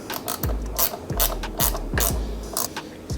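A ratchet wrench tightens a nut and lock washer on a bolt while mounting an e-bike taillight bracket, giving about five loud, close, evenly spaced clicking pulls.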